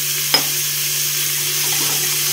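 Vegetables sautéing with salt in a pan make a steady, soft sizzle with a brief clink near the start and faint stirring scrapes, with no talking.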